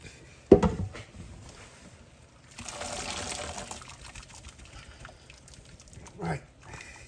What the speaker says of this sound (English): So I'm going to save some of this water